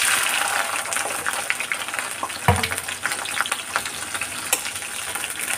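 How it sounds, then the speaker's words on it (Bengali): Chopped capsicum sizzles loudly and steadily in hot oil with a bay leaf, with a few scraping stirs of the spatula cutting through the continuous frying hiss. "এবার ক্যাপসিকামটা ভালো করে ভেজে নিতে হবে।"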